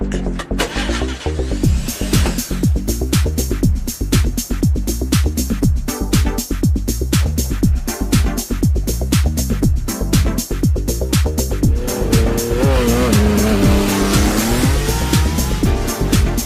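Loud, continuous whoosh and roar of the Booster Bike motorbike-style roller coaster ride in the video game Planet Coaster, with a rapid regular clatter of track noise throughout and a rising whine in the final seconds; no one speaks.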